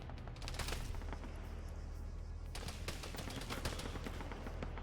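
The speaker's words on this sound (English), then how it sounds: "now you're seeing the 50 cals firing up here" Distant .50 caliber heavy machine guns fire during an Arma 3 military operation, producing sustained rattling bursts of automatic gunfire against a constant low rumble, fairly faint and with no talk.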